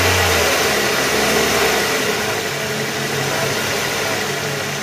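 A car engine idles and revs lightly during an air-conditioning compressor coil check, a steady mid-pitched hum with a slight rise and fall, close and without speech.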